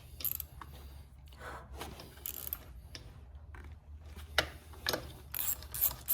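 Bolts being snugged down on the cooling fan of a Briggs & Stratton small engine during a rope-start to electric-start swap, with ratcheting clicks and metallic rubs in short bursts at close range.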